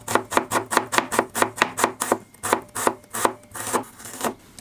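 Knife slicing onions on a cutting board for crispy fried onion beresta, a brisk even series of about twenty sharp cuts, close and clear, slowing slightly toward the end.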